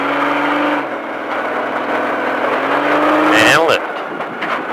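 An off-road stadium truck at Speed Vegas drones along, then its engine revs up sharply in a rising whine as the driver gets back on the throttle, while a voice talks over the engine noise.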